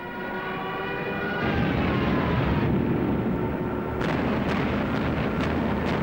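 Engine drone and rumbling blasts from Axis warplanes attacking a Mediterranean convoy of merchant ships with naval escorts in WWII archival footage, a steady loud roar with sharp bursts of explosions toward the end, no speech.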